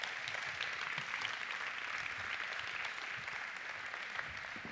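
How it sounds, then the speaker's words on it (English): An audience at a faith talk gives soft, distant applause, a steady patter of many hands that stays low and even for the whole stretch. "Let's give Dan a massive round of applause."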